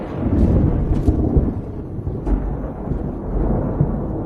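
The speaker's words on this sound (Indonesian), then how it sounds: "Bersamaan dengan suara guludug pertanda akan turun hujan" A deep, continuous thunder rumble rolls on for several seconds as rain approaches, loud and close, with faint crackling bursts over the low roar and no voices.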